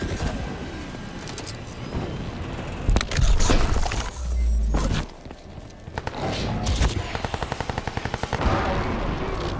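Automatic weapon fire rattles in rapid bursts during a futuristic video game battle against an incoming gunship, with loud blasts and explosions layered over the shooting.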